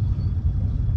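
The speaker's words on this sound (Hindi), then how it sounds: "इंजन की नॉइज आप सुन सकते हैं" Hyundai Verna engine running, heard from inside the cabin as a steady low rumble that fills the short stretch alone.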